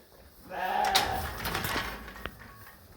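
Sheep and lambs bleat at feeding time on a farm: one long, wavering bleat rises close by, with fainter bleats and a few knocks after it.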